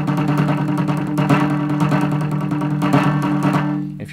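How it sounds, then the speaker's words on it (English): A prepared guitar rigged as a snare, played with the strings muted, giving dense, dry buzzing tones that pulse steadily with the plucked notes, loud and close with no talking. "And if you play it muted, you get this kind of sound."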